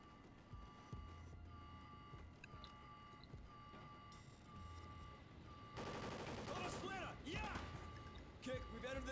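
Gunfire from the Call of Duty Ghosts campaign crackles in quiet, rapid bursts that thicken toward the end over low in-game ambience.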